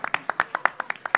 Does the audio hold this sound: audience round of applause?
yes